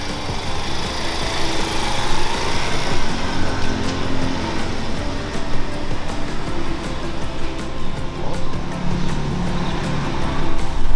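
Continuous buzzing engine note of a scooter riding along, loud and close with steady wind and road noise and small fluctuations in pitch.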